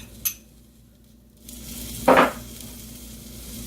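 Roasted red peppers drop into a hot pan for spicy Spanish orzo, giving one short, bright sizzle burst midway through an otherwise quiet kitchen moment.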